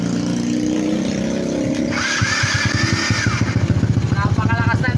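A 218cc flathead motorcycle engine on a custom build runs loud and close, a rough idle giving way to choppy, throbbing revs, with people talking over it.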